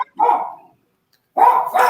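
A dog gives two loud, close barks separated by a short silence, the second one longer and rougher.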